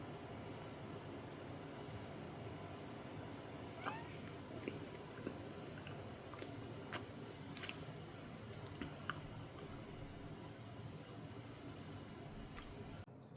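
A cat stuck up in a tree meows repeatedly, faint and somewhat distant, its calls scattered across a long stretch of quiet outdoor background.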